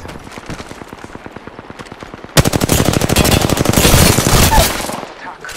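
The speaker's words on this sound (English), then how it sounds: "Attack. Opening fire." Rapid automatic weapon fire in Apex Legends, a lighter stream of shots that suddenly turns into a loud, dense, close burst, then cuts off near the end.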